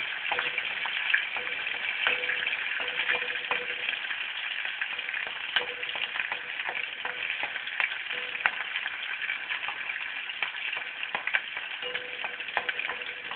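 Green chillies fry in a pan for chutney, a constant crackling sizzle with bursts of popping and occasional stirring scrapes, steady and close with no talk.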